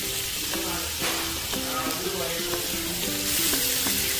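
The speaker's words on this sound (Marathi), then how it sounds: "सगळं थोडंसं परतून घ्यायचं." Ginger-garlic and chilli paste sautéing in a pan, a loud, dense, close sizzle that holds steady throughout, with a faint rhythmic tapping of a utensil underneath and no one speaking.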